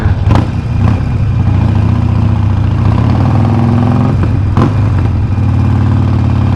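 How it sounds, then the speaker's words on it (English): A Harley-Davidson Forty-Eight motorcycle with a $160 aftermarket exhaust rumbles loud and close in a deep, steady throb, broken by a couple of sharp bursts. "This sounds like a freaking motorcycle, bro."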